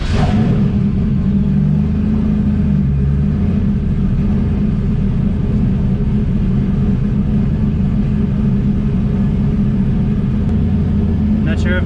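A turbocharged LS V8 swapped into a Lexus IS300, fired up stone cold after sitting all weekend, idles with a loud, steady low rumble close by, a lumpy throb running unbroken through the whole stretch.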